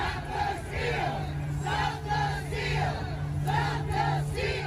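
Rioters massed at the Capitol roar and chant in repeated rhythmic surges, a dense mass of voices heard from a distance with a steady low hum beneath.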